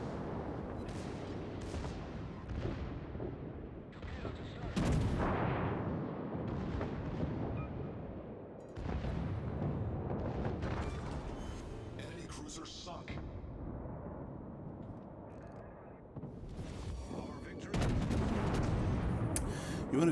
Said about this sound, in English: You want to shoot towards the base of the ship